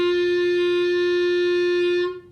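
A single sustained open G on a clarinet, played with no keys pressed: a steady, clear reedy tone held for about two seconds before fading out.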